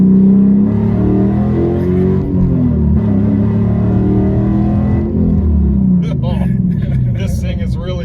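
A manual Dodge Challenger pulls through second gear, its engine a loud, close, steady drone rising gradually in pitch, with someone talking over the final seconds.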